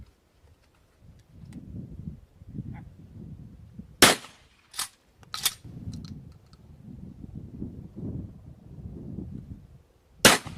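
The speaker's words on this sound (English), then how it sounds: "take some additional readings of sound that might come from firearms that are used at a public shooting range" Gunfire at a public shooting range: three sharp, loud shots around the middle and a single shot near the end, with softer impulsive pops between and low rumbling background noise throughout.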